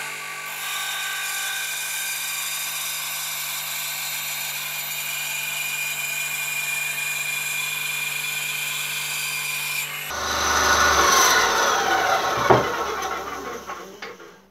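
An Einhell TC-SB 200/1 band saw runs with a steady, high whining hum for about ten seconds, then bites into a piece of wood with a louder, rougher rasping buzz that fades as the cut ends.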